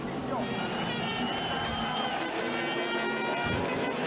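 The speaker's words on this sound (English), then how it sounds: "the crowd roared for their hometown hero" A loud crowd roars and cheers steadily at a NASCAR race in Canada as hometown favorite driver Villeneuve takes the lead at turn 1, a dense wash of massed voices and clapping with engine noise beneath.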